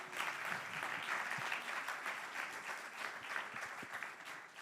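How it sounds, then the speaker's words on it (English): Audience at an electricity-market policy conference gives the panelists a steady, dense round of clapping, moderately loud and sustained throughout without speech. "So can you give them one more quick round of applause,"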